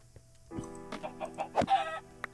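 A Minecraft chicken lets out a short run of clucks, close and fairly quiet, with soft game sounds around it.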